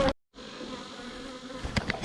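Honeybees buzz around a nuc hive in a steady, close drone after a brief gap, with a few sharper buzzes as individual bees fly past the recorder near the end.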